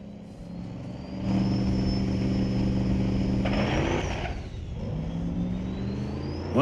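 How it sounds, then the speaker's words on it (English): The Chaos Diesel drag truck on four slicks launching at a drag strip, a loud engine roar building and surging with a sharp rising whine, then easing off as the tires break loose. "Broke the tires with some violent wheel hop, but that's why we test."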